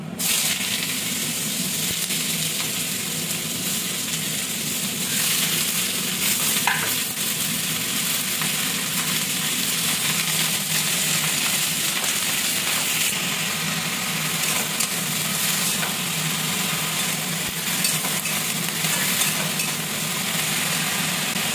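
Vegetables frying with kalonji seeds in hot, spattering oil make a steady, dense sizzle with crackles throughout, close and loud, with no talking.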